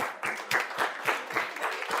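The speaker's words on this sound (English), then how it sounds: "Now give yourselves a round of applause." A room of seminar attendees on time management claps for themselves, a short burst of sharp, uneven hand claps at close range, rising and falling in rapid rhythm.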